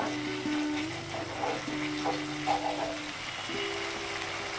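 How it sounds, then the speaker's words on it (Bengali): Turmeric-spiced masala frying and sizzling in oil in a pan for chana paneer, a steady close hiss with light stirring scrapes and no talking. "হাফ চামচ হলুদ গুঁড়ো, খুব ভালোভাবে কষে নিয়েছি, তেল বেরিয়ে আসছে।"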